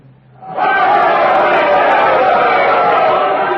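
A large crowd in a historical drama about the Salem witchcraft trials swells suddenly into a loud, sustained roar of cheering voices that holds steady to the end.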